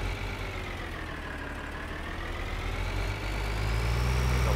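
Farming Simulator 2013 tractor engine idling in a steady, close drone that swells slightly louder toward the end, with no talk over it.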